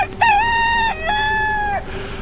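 A rooster crows up close in a drawn-out, wavering call, used as an effect in a Tagalog horror story, standing alone over a faint background hum.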